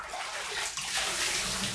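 Water rinsing and splashing in a bathtub during a body scrub, a steady close wash of running and sloshing water with no talk.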